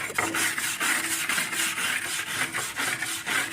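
A stiff wire brush scrapes torch-burnt lumber in quick, repeated back-and-forth strokes, a steady close rasping with a regular rhythm and no talking.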